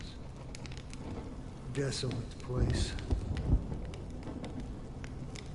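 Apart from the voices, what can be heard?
rain and thunder in Honkai: Star Rail video game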